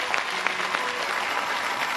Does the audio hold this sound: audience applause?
yes